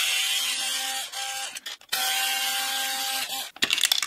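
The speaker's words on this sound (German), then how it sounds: "Auch hier werden erstmal die beiden Schrauben gelöst." Close mechanical whirring of an electric screwdriver loosening two screws on a Traxxas TRX4 Sport RC crawler, steady runs broken by brief pauses and a short ratcheting rattle near the end.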